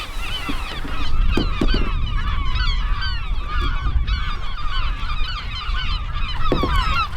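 Many geese honk repeatedly on a small rocky bird island, a dense overlapping chorus of loud nasal calls close by, with a few sharp knocks and steady wind noise beneath.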